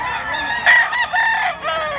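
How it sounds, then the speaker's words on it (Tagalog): A rooster crows once, loud and close, a strained rising call that breaks and continues before trailing off. "Ang manok guys, ang manok ni Busing"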